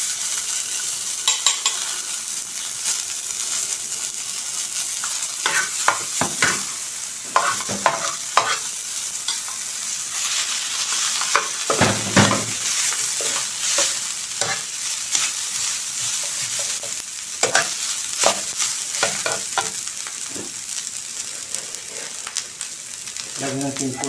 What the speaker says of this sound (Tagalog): Ngayon, magluto tayo sa ating fried rice.